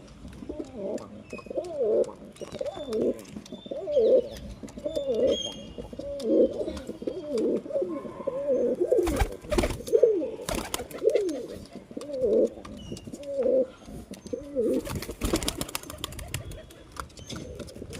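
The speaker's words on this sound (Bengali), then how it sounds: "এই একটা আমার বাড়ির কবুতর" Domestic pigeons in a loft coo close by in repeated rhythmic phrases, with a few brief bursts of rustling or flapping noise.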